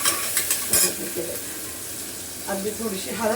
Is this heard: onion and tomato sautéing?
yes